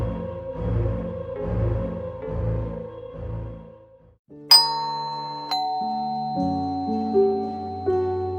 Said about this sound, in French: Mais qui peut bien sonner à cette heure?